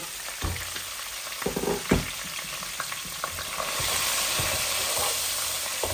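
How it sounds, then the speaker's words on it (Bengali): Rohu and tilapia fish pieces coated in salt and turmeric fry in hot oil, a steady close sizzle with sharp pops and spatters, growing into a denser hiss toward the end. "লবণ হলুদ দিয়ে মাছগুলো ভেজে নিচ্ছি, একটু কড়া করে ভাজবো।"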